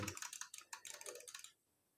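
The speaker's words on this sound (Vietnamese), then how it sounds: "cái tiếng bấm của nó cũng sẽ khác hoàn toàn luôn" A Solakaka SM802 hot-swap computer mouse is clicked in a quick, irregular run of crisp, close clicks for about a second and a half, then quiet.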